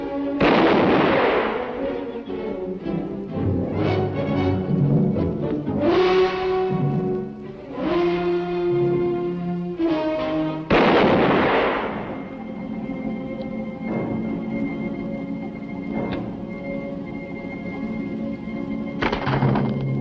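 Gunshots in a western film scene, loud booming blasts with long echoing decays, several reports spread across the stretch amid other soundtrack noise.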